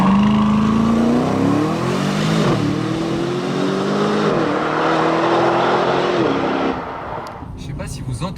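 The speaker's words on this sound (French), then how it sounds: "Le bruit du moteur du 707, il est plus poussé que le DBX de base." An Aston Martin DBX 707 engine drones and rises steadily through the gears, a loud, close exhaust note climbing in pitch, then easing off near the end.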